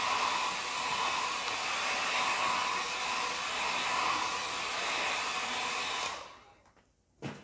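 A hair dryer runs steadily on acrylic paint during a craft session, a loud continuous airy whir for about six seconds before it switches off and winds down, followed by near silence and a brief knock.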